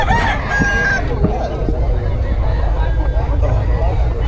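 Gamefowl roosters crowing and clucking at a busy chicken market in Bocaue, loud and close amid crowd babble, with people talking throughout.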